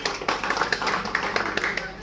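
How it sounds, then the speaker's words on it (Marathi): Crowd clapping at a women's competition prize ceremony, a steady patter of many hands with sharp individual claps standing out, fairly close and continuous for a couple of seconds amid light background chatter. "सर्वांनी टाळ्या वाजवायच्या आहेत."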